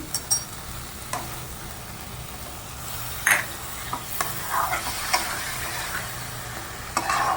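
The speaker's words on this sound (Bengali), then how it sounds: "এবার মশলাগুলোর মধ্যে একটু সামান্য জল দিচ্ছি।" Spice masala with tomatoes frying in a pan for a besan papad curry as a little water goes in, a low steady sizzle with scattered stirring clicks and scrapes throughout.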